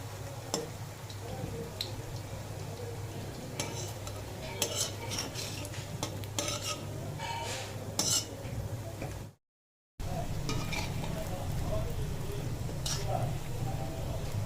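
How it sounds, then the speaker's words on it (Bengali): Chhana (paneer) kofta balls fry steadily in a pan, a continuous sizzle with scattered utensil clicks, interrupted by a brief gap before resuming at the same level. "ছানারে একটু বসে যাবে হালকা হালকা লাল লাল করে ভেজে নেব"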